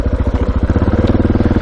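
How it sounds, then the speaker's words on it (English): An old carburettor motorcycle engine, with no electronics, idles close by with a steady, lumpy low throb and loud, even beats that carry on throughout. "Just an old carby engine, there's no electronics"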